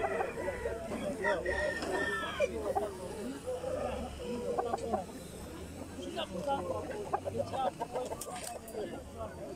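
Chickens and roosters at a bustling poultry bazaar, with repeated crowing and clucking from nearby birds mixed in among the steady chatter of traders and buyers talking throughout.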